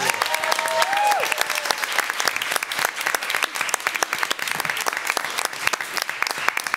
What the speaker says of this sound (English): Should we give one more big round of applause to our amazing students who came out tonight?